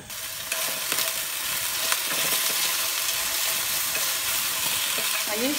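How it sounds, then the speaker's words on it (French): Ingredients sizzle as they brown in hot fat in a cocotte, a steady close crackling hiss with light stirring scrapes throughout, no voices. "Et je vais les faire revenir jusqu'à ce qu'ils aient une couleur"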